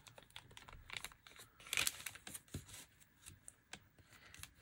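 Craft paper being folded for a small tab-bound journal: a run of quick crisp creasing and rustling sounds with one louder crinkle partway through, close up, with no talking.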